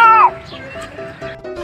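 A voice imitates a cat, letting out a short, high, whiny meow that slides downward, followed by quieter murmuring.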